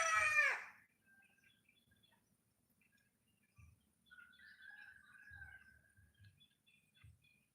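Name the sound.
chickens clucking and crowing in countryside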